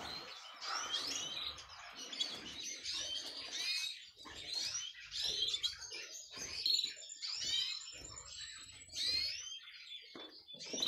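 A canary in a breeding cage chirps and trills in repeated bright bursts with brief pauses, close and clear.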